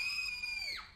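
A shrill female scream from a Buffy the Vampire Slayer episode, one sustained high cry that bends sharply downward at the end, heard alone and fairly close.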